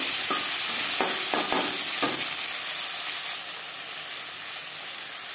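Two sliced tomatoes go into hot oil with black cumin seeds for a Bengali-style katla fish curry. A loud, continuous sizzle is broken early by a few sharp utensil clinks, then it settles into a steady hiss.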